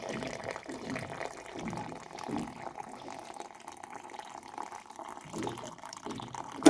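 Hot water trickles and pours from a water dispenser in a soft, uneven stream, fairly quiet and close, with faint gurgles and no talking.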